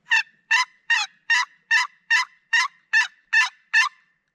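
A wild turkey gobbles ten times in a steady, evenly spaced series at an evening hunt, each call loud, clear and close, with silence between them and no voices.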